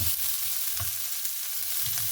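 Chopped onions go into a hot pan and are stirred, with a low steady frying crackle and a few soft scraping stirs, close and without voices.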